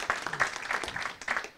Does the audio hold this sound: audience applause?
yes